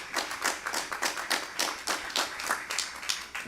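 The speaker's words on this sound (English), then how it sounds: "But I want you to give them another round of applause" Steady applause from an audience at a judicial investiture ceremony, a dense run of claps with rhythmic pulses, moderately close and continuing without any voices over it.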